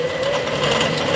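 A Clausing lathe runs after a variable speed repair, a steady close mechanical whir and hum with no breaks.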